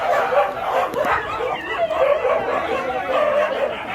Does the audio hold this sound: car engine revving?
no